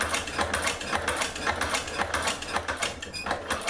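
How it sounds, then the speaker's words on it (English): A Chinese sewing machine runs a stitching pass, with a fast steady mechanical chatter of needle and gears that stays even and close throughout. "now we can go ahead and do our sewing run."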